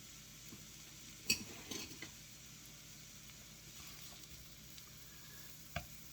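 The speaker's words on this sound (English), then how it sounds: "Once our pan is hot, we're gonna go ahead and add our mushrooms to it." Mushrooms sizzling in a hot pan while a keto Philly cheesesteak filling is cooked, a soft steady fry with a couple of clattering utensil stirs and taps, no talking.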